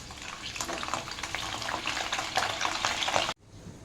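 Garlic cloves hit cooling oil for a homemade mango pickle, producing a steady, close bubbling sizzle that cuts off abruptly near the end.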